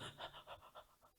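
A human voice imitates a lizard panting very fast in the midday heat, making a quick run of soft, breathy rhythmic huffs up close, faint and alone.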